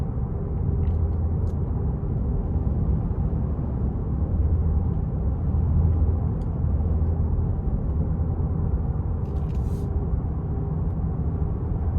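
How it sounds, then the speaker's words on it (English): Strong gusting wind buffets a 2026 Nissan Pathfinder Rock Creek with a 3.5 V6 while driving, a loud continuous broadband rush over road and engine rumble. "this wind is blowing crazy right now"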